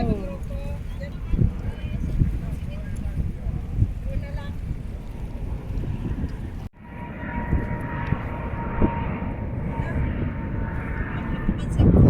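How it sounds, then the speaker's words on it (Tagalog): A loud airplane engine roars overhead near the sea with a sustained drone, while people talk over it; the noise dips briefly midway then continues. "Oh, ng eroplano."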